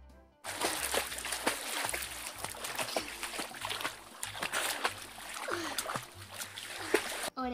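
Water splashes and sloshes in a toy bath for Barbie doll babies, with irregular splatters and trickles, close and moderately loud, plus faint handling knocks.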